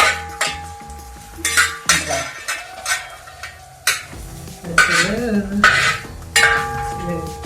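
Green chillies and masala are stirred in a pan with a metal utensil, giving irregular scraping and clinking strokes over a faint sizzle, with soft bursts of frying noise between the stirs.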